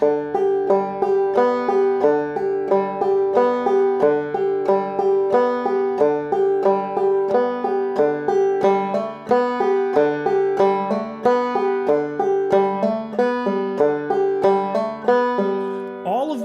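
Bright plucked banjo picking in a steady, even roll, second notes of each pair on the fifth string, repeating notes keeping a constant rhythm, close and alone with no voices.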